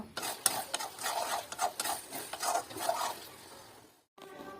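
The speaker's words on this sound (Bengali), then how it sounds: "তাতে একটু জল দিয়ে ভালোভাবে নাড়িয়ে নেব" A spoon scraping and stirring an egg and potato curry in a pan after a little water goes in, with repeated soft scrapes and light sizzling, then a brief pause before the scraping resumes.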